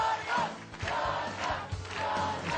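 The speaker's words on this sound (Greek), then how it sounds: "Δώστε μου το πιο δυνατό σας χειροκρότημα για αυτό το παίκτη." A studio audience on a Greek game show cheers and shouts for a player, a loud close crowd roar that swells in waves with whoops and yells, with little distinct clapping.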